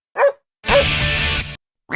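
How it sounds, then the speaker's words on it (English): A dog barks twice in quick succession, then a longer whining yelp, loud and close, with a third bark starting at the end, alone with no talk. "Dog."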